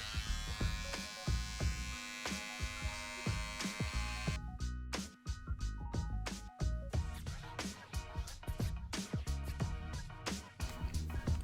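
Electric trimmer shaping a handlebar moustache, a close buzzing drone that starts and stops in short bursts and changes pitch as it moves through the hair, with no talk.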